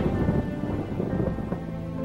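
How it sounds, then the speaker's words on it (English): Heavy rain pours down in a dense, constant roar with a low rumble beneath it, loud and close. "The rain coming down so hard"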